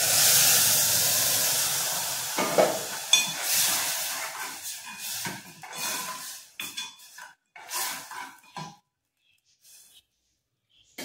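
Masoor lentils tipped into a hot pan with roasted masala, giving a loud hissing sizzle at first that fades out, broken by clinks and scrapes of a utensil against the pan, then near silence.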